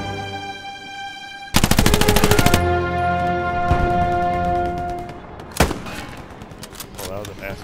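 Gunfire from the World War II shooter Hell Let Loose: a loud rapid machine-gun burst cuts in, followed by a single sharp distant shot, over a steady droning musical backdrop.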